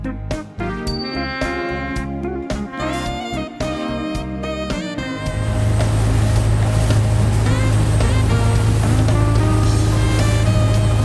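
A fishing boat engine pulls away from Cijin Harbor in Kaohsiung, a loud, continuous low drone that starts rough under clattering knocks, then settles into a steady, powerful hum.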